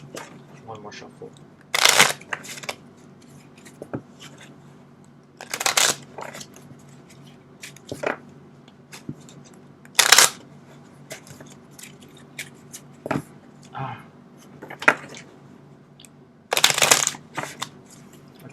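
Tarot cards being shuffled in a few short riffling bursts, separated by quiet pauses with small taps and handling noises close by.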